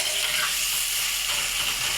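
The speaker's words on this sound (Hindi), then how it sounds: "इसको मैं भून लूँगा" Tomatoes and onions fry together in a pan for a mutton gobi gosht, giving a steady, close, even sizzle with no pauses and no voices.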